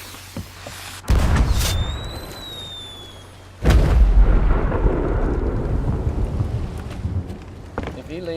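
Fireworks in the pirate game Sea of Thieves: a loud boom at about one second, then a whistling rise, then a second heavy blast that trails into a long rumbling crackle. Everything happens near and loud, with no talking.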